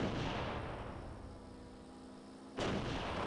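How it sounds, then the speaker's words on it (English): Gunfire from an aircraft carrier heard from a jet in flight, with a low steady roar of wind and engine and a sudden loud burst near the end. "The carrier's firing or something, Killer."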